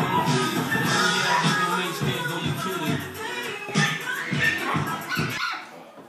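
Several dogs barking and yipping repeatedly, close and loud, in a store with a grooming room, with a person talking over the barking.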